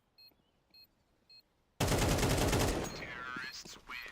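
Counter-Strike match gunfire: three short, quiet reports spaced about half a second apart, followed by a sudden loud sustained burst of rapid fire and explosive noise that fades slightly toward the end.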